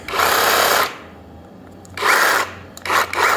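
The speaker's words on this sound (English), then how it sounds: "I'm going to show you guys the Sawzall now." VEVOR 20-volt cordless Sawzall reciprocating saw running in three bursts, a long first run, then two shorter runs close together, loud and near with no talk.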